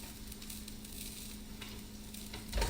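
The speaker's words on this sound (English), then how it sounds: "Butter shouldn't be sizzling like that." Butter sizzles in a pan while a sauce for a crab boil is made, a soft continuous frying hiss, faint and steady with a low hum underneath.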